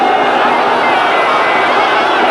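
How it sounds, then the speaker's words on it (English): A stadium crowd roars at a Muay Thai bout between Nong O Kiatyongyuth and Wanchalerm Sidrungsak, a dense, continuous wall of cheering and shouting with no breaks. "The crowd are urging him on"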